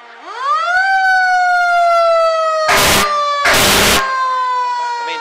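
Fire truck number 284 sounds its wailing siren, rising and then holding steady, at a Christmas parade in Kings Mountain, with two loud air horn blasts cutting in near the middle.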